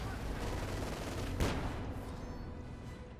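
Light machine gun fire from Grenadiers in the real-time strategy game Company of Heroes 2, a steady rattling stream of distant battlefield gunfire with one sharper crack in the middle, faint and continuous throughout.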